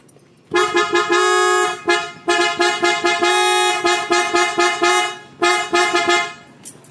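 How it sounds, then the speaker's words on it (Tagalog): A loud, deep dual-tone PIAA Superior Bass Horn (330 Hz and 400 Hz) on a Mitsubishi Xpander blasts repeatedly in short and long honks, close by and dominating everything. "PIAA Superior Bass Horn Deep Bass Tone na may 330Hz plus 400Hz high and low tone."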